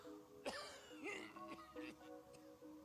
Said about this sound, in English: your boss coughs loudly into the receiver